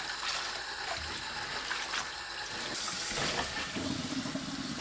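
Tap water running steadily into a sink while cabbage is washed for a melon water kimchi recipe, a continuous close hiss and splash with small shifts as the flow is disturbed.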